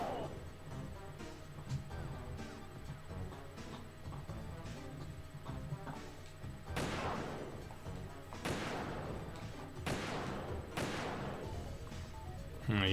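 Bursts of video game gunfire from Metal Gear Solid 2: Substance on PlayStation 2, several loud volleys cracking out over continuous game music and ambience.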